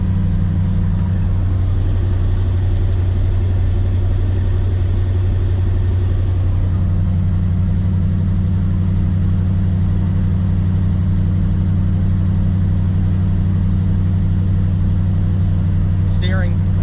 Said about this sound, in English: That big V8 power.